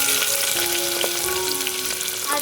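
Whole spices such as bay leaf frying in hot oil with onion for cashew chicken masala, a close, dense crackling sizzle with a few sharper pops and faint utensil clicks.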